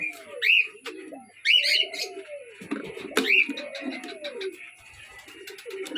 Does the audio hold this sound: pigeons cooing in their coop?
yes